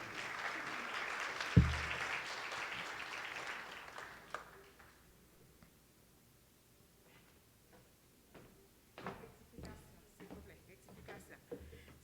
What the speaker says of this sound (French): soyez moins timides avec les applaudissements